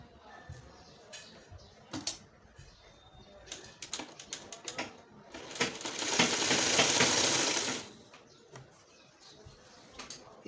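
A sewing machine runs in one steady, whirring burst of about two seconds while stitching a designer kurti, set between scattered clicks and light handling noises in a quiet room.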